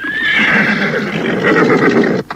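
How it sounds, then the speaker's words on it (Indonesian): Horses neigh and gallop as a radio drama sound effect, with a long loud whinny at the start over steady clip-clop hoofbeats that run continuously before stopping abruptly at the end. "Kuda-kuda mereka berderap kencang, seolah memburu waktu"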